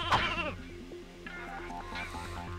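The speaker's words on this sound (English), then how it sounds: "That was the reason why there were sheep here." Sheep bleat in the Ratchet and Clank 2 video game, a loud bleat at the start and fainter bleats later over a steady, pulsing game soundtrack.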